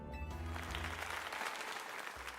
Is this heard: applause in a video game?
yes